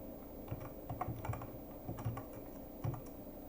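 Close, light clicking of keys on a computer keyboard in irregular quick bursts, with soft individual keystrokes and short pauses between them, no talk.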